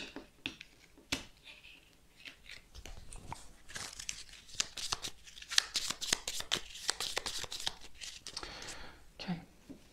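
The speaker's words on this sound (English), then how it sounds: "Shuffle the deck." A deck of rune cards for a Dungeonquest board game is shuffled by hand, producing rapid crisp riffling and slapping bursts that continue throughout, fairly close and quiet, with no talking.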